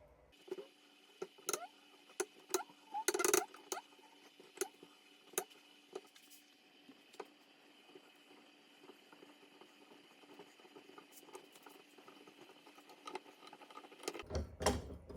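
A DIY bushing press clamped to a table is tightened by hand, giving sparse, faint metallic clicks and ratchety ticks over a quiet background. A louder clatter of handling comes at the end.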